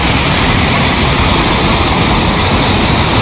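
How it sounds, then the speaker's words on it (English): A loud waterfall in Tanzania roars as a dense, steady rush of white noise that fills the whole clip without a break, with no voices over it. "this is one of the most beautiful waterfalls. Original organic waterfall."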